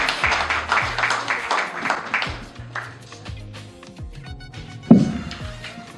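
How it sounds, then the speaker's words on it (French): Applause and cheering from a crowd at a hospital centre opening ceremony, a dense burst of clapping that thins out over several seconds beneath a sustained musical tone, with a sharp thump near the end. "J'aimerais que nous puissions multiplier nos acclamations,"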